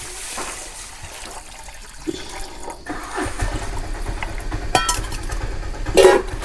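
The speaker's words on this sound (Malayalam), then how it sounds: "വെള്ളം ഒഴിച്ചു കൊടുക്കണ്ടേ" Water pours and trickles into a cooking pot, a continuous splashing stream that grows fuller and louder toward the end.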